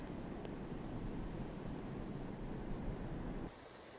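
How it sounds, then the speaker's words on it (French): Roaring surf and wind-driven ocean waves off the coast of Oman during Cyclone Mekunu, a dense, continuous broadband rush that holds steady before dropping suddenly to a quieter level near the end, with no voices. "Les vagues atteignent jusqu'à 12 mètres de haut."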